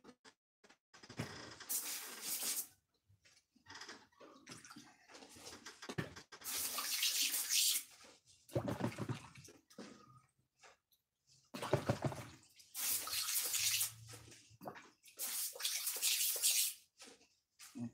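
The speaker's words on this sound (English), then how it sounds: "then fill it with water and put it down" Tap water running into a paint container in bursts, close and fairly loud, the gushing flow starting and stopping several times with short pauses between.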